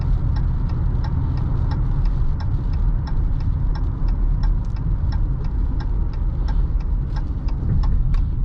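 A 2023 Dodge Challenger SXT engine on the highway, a steady mid-pitched drone from inside the car with a regular ticking pulse over road noise, loud and continuous, with no voices.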